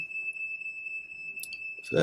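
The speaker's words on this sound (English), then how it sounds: "it's supposed to be steam, but it set the smoke alarm off" A smoke alarm set off by steam from descaling a steam iron emits a continuous high-pitched electronic tone, steady and close, before a brief voice cuts in at the end.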